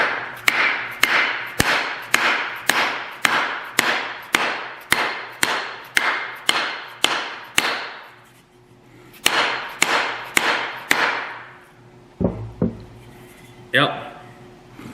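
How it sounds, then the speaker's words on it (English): A hammer taps a tool head down onto its wooden handle in a run of sharp, evenly spaced close knocks, pausing briefly before a few more strikes and some handling clatter at the end. "Give her a couple of taps to snug it up a little bit."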